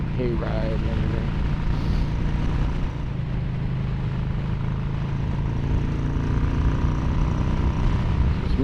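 A Yamaha Bolt motorcycle fitted with a Vance & Hines air filter cruises up Bouquet Canyon, its engine a steady low rumble with wind buffeting throughout, continuous and close.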